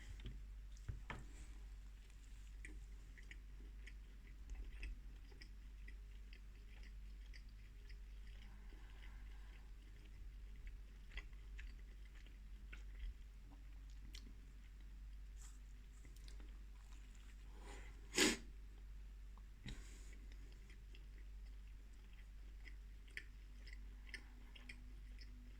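Someone eats a Rustlers All Day Breakfast Sausage Muffin, with soft, close chewing and biting that continues quietly for a long stretch, broken by one brief sharper noise near the end.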